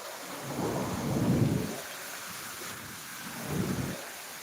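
Low, distant thunder rumbles twice, the first roll longer, over a steady hiss of monsoon rain in Deulgaon Raja.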